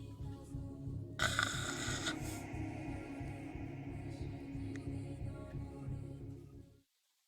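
A voice imitates snoring right into the listener's ear in a quiet, intimate setting, with soft, low, rhythmic rasping breaths repeating steadily before cutting off into silence.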